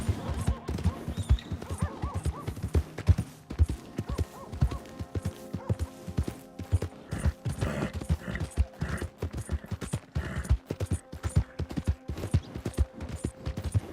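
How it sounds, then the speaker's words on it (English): Horse hooves clip-clop in a steady, uneven patter throughout a scene from the video game Red Dead Redemption 2, with scattered thuds and a faint whinny in the mix. "My horse!"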